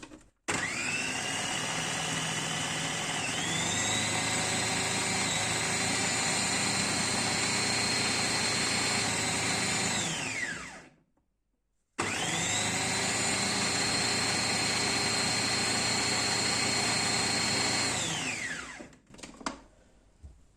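A Bifinett KH 700 food processor, just repaired, runs empty in two long bursts, a loud steady motor whine that rises on start-up, then winds down with a short pause between runs.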